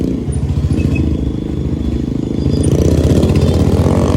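A loud Royal Enfield Bullet exhaust rumbles steadily nearby, its deep throb building toward a heavier roar as the bike revs harder.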